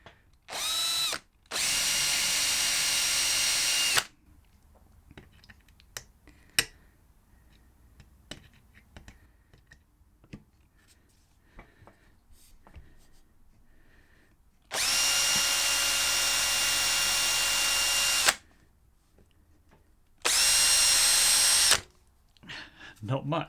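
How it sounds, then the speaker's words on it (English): A power drill whines in three long, loud bursts, grinding steadily through a stainless steel KTM Duke exhaust baffle, separated by quieter stretches of faint handling noises and clicks. "Drilling through stainless is really difficult"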